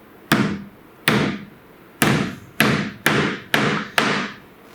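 Hammer tapping adjustable plastic feet into the base of a cabinet, seven sharp close strikes spaced roughly half a second apart, each ringing briefly before the next, with no talking.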